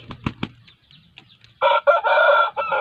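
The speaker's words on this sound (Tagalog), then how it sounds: "Di ba may manok tayo?" A rooster outside a greenhouse crows loudly and nearby in one long, wavering call, following a couple of soft knocks and faint clucking.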